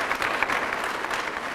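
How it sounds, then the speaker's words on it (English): A brief burst of dense, even audience applause for a county executive, a steady wash of many hands clapping at moderate loudness. "Let's give our county executive a big round of applause."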